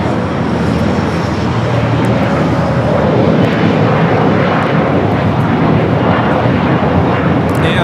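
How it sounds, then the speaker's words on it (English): A United Express Embraer E-175 jet takes off at LAX, its engine roar steady, broad and loud throughout, rising slightly toward the end, with no talk over it. "this takeoff is United Express 5241 taking off to Monterey on the E-175"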